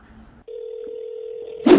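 A telephone line gives a steady, clear dial tone for about a second after a brief murmur, then a sudden loud burst as a call is dialed.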